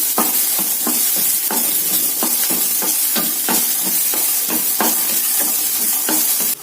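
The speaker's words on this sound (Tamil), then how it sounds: "வெங்காயத்தை நல்லா வசக்கி விட்டுடலாம்" Onions sizzle steadily in a hot pan while a utensil stirs and scrapes them in a quick, regular rhythm.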